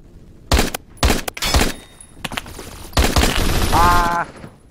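Bursts of light machine gun fire in the shooter game Phantom Forces, loud and close, coming in several rapid volleys with short gaps between them.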